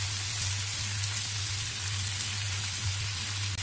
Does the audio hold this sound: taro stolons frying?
yes